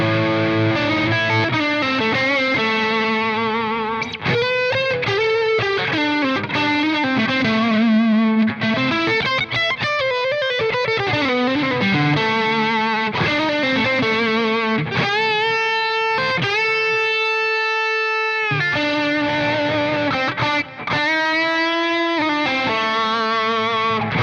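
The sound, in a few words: Fender Stratocaster neck single coil pickup with full distortion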